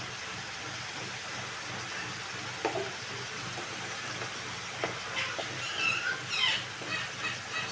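Garlic paste and cumin paste sizzle in a hot pan, a steady soft frying hiss with small crackles and a few stirring scrapes, close and moderately quiet.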